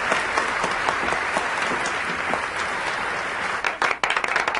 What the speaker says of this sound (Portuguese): Por favor, vamos aplaudir Ellen Brighton